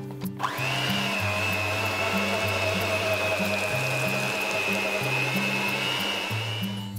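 Electric hand mixer whisking brioche dough with egg yolks, a steady close whirring drone that holds for about six seconds, with a faint rhythmic knocking underneath from the beaters working the dough.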